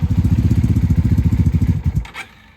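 A Honda Magna 750 VF750C motorcycle engine fires up on choke and runs with a rapid, loud, lumpy putter, then abruptly dies after about two seconds.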